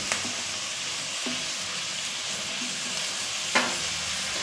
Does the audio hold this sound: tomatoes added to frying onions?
yes